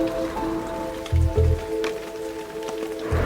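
Steady patter of rain falling on a surface in a Lowcountry swamp near Charleston, with a few louder drips and low thumps scattered through; no one speaks.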